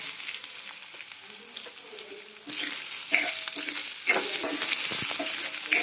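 Peanuts being dry-roasted in a pan at home, a steady sizzling rustle with intermittent scraping stirs and rattling as the nuts are moved, close and fairly loud, getting busier in the second half.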